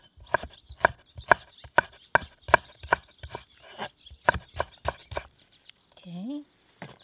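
Green onions picked fresh from a yard are chopped with a knife on a board, a quick run of sharp, evenly spaced thuds close up, followed by a brief rustle and a short low hum at the end.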